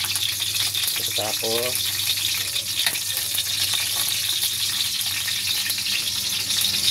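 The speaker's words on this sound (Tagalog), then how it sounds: "Una sa lahat igisa po natin itong bawang muna." Garlic sautéing in cooking oil as the start of ginataang alimasag, a crab dish, a continuous bright sizzle and crackle close up, with a brief spoken word early on.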